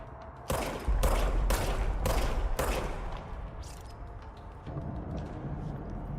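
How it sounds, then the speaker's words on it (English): Five loud, evenly spaced blasts from the stubby shotgun-form service weapon in the video game Control, fired about half a second apart, followed by a lingering rumbling tail. "Now I have a gun. Now we can shoot with R."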